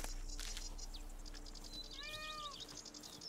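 A single cat gives one faint, rising-then-falling meow outdoors, against a steady background hiss.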